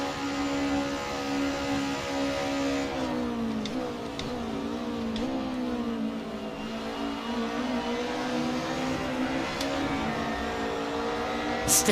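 Touring-car race engines in Assetto Corsa at Bathurst, a BMW running side by side, give a loud, continuous drone that rises and falls in pitch through gear changes and corners, with no voices.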